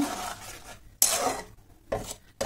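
Pea and potato curry stirred in a pan after sugar goes in, with a few separate bursts of utensil scraping and clinking against the pan and quiet pauses between them.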